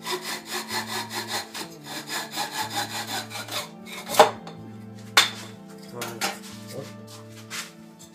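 A hand saw cuts through wood to rough out the shape of a fishing lure, giving a steady back-and-forth rhythm of strokes, close and clear, followed by a few sharp knocks and scrapes as the cutting stops.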